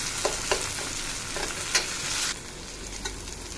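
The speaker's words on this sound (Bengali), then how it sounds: "এটা কিছুক্ষণ ফ্রাই করে নেব যাতে ওই কাঁচা গন্ধটা চলে যায়।" Spice paste frying in oil, a gentle steady sizzle broken by a few spatula taps and scrapes, close and quiet, with the sizzle easing off near the end.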